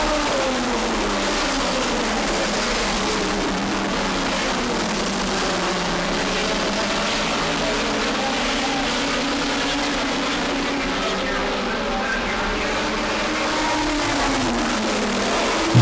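Race cars on a New England oval track roar past in a loud, continuous field, engines rising and falling in pitch as they accelerate and pass one another, with no talk over them.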